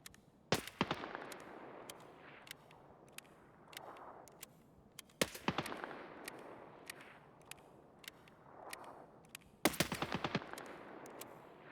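Video game gunfire in three separate bursts, each a sharp opening crack followed by a short rattle of rapid shots, spaced several seconds apart against a quiet background.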